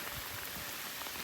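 Steady rain falling on a hiking trail in Grindelwald, Switzerland, a soft continuous patter of drops on surfaces, faint and even throughout with no voices.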